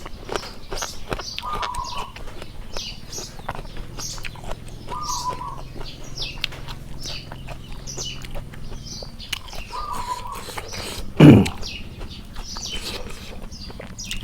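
A sparrow chirps in short, repeated calls at a distance, with soft background noise and one brief louder thump partway through.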